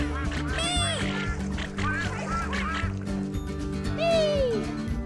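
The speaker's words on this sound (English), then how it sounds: "Quack, quack, quack, quack." Cartoon ducks quacking in a children's animated show, several bright rising and falling calls spread across the clip over a steady musical backdrop.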